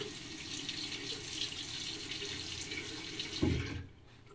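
Tap water runs steadily into a sink while a razor is rinsed during a shave, a close, even splashing stream with a brief knock near the end before the flow cuts off and the sound drops away.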